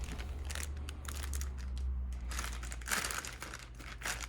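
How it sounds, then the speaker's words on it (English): Plastic wrapping crinkles and crumples as it is pulled off golf push cart parts, a close, continuous rustle with sharper crackling bursts over a low hum. "So let's get all this plastic wrapping off and we'll get it assembled."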